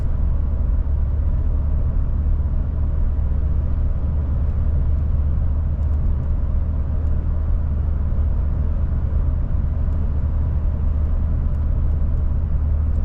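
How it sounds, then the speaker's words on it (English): A fourth-generation Ram 1500 pickup with an 8-speed transmission accelerates slowly, heard as a steady, loud low rumble of engine and road noise from inside the cab throughout, with no speech. "So it's just a really nice slow acceleration right there."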